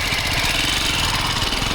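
A motorcycle engine, an R15 or a Benelli 600, runs steadily at close range with a loud, even drone and no pauses.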